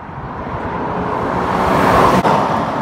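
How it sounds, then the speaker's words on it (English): A Jaguar XJS V12 6.0 Le Mans Edition's engine roars under full throttle, a steady, loud broadband drone from inside the car that swells slightly as it pulls, with one brief dip near the end. "let's get our foot down and just open up the taps of the V12"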